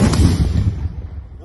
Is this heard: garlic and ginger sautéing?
no